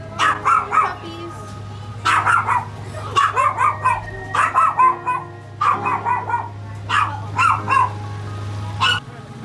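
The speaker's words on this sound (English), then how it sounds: "Puppies." Several puppies yapping in quick, high-pitched bursts, clustered barks repeating throughout with a low steady hum underneath, in the Philippines.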